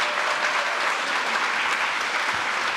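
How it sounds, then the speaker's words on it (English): Audience applause inside a performing arts center, a dense, even roar of many hands clapping at once, steady and fairly loud throughout. "give them a huge round of applause"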